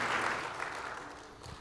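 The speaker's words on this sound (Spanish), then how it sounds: "Denle un aplauso al Señor" Brief burst of church congregation clapping, a dense wash of hands that tapers off within a couple of seconds.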